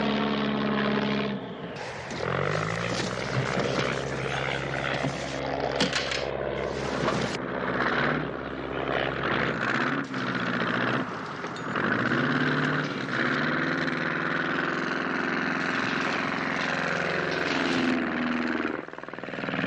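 A small aircraft engine drones steadily as the plane tries to land, the throttle being jockeyed so the pitch rises and falls, heard through a busy television soundtrack with other noise layered on top.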